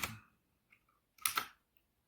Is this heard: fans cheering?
no